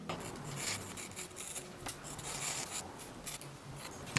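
Scissors snipping through hair during a haircut, a close, quiet run of soft crisp cuts and rustles with no talking.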